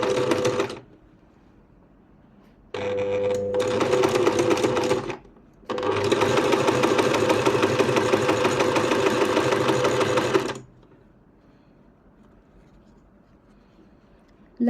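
A sewing machine stitches fabric for a scrunchie in three bursts: a brief one, a longer run, then a sustained stretch of rapid whirring. Quiet pauses fall between the bursts.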